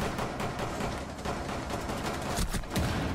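Rapid gunfire in a tactical shooter video game, a dense run of overlapping shots and bursts at steady loudness, with a sharper cluster near the end and no talk.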